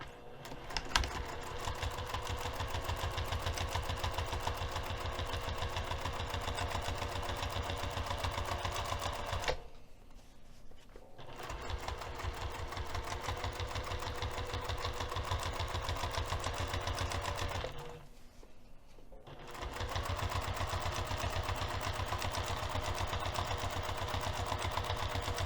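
A sewing machine runs steadily at close range, top stitching a crossbody bag at a lengthened 3 mm stitch, with a rapid even whir that stops briefly twice before resuming.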